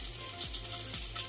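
Onion, green and red capsicum and chopped green chilli frying in a pan for chilli egg, giving a steady, close sizzling hiss with faint stirring and no voices.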